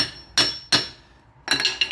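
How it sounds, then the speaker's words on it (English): A hammer strikes a punch set in the CV axle of a 2002 Buick Regal during axle and hub replacement, giving two sharp, ringing metallic blows and then a quick burst of rapid hits, loud and close. "They put a little dimple in there so you can put a punch and knock it."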